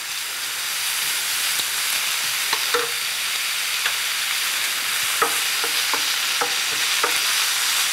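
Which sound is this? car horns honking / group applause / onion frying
onion frying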